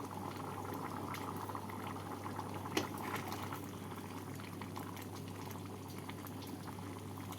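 Potatoes simmer in a covered pot of mutton keema ghugni, giving a quiet, continuous bubbling boil with a low steady hum underneath and one brief knock partway through.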